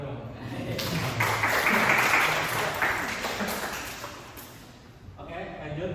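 Applause during a school presentation in Indonesia, a crowd clapping steadily for several seconds and tapering off near the end, with talk underneath.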